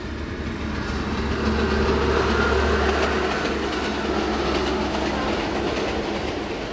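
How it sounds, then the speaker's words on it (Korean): Vietnam's Reunification Express running along its railway, a steady rumbling roll of carriages with faint rhythmic wheel clatter and a low hum, continuous and fairly close, no voices. "베트남인들은 이 철로를 달리는 기차를 통일열차라 부른다."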